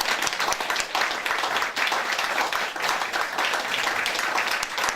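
An audience at a club celebration applauds loudly and continuously, a dense roar of many hands clapping with slight surges, a few voices faintly mixed in.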